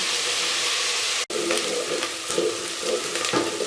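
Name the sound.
onions frying in a pan, stirred with a spoon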